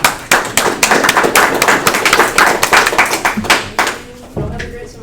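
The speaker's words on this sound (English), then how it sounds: "let's give her a round of applause" Audience applause fills a university chemistry lecture hall: dense, steady clapping from many hands close by, lasting several seconds before thinning out into a few scattered claps and room noise.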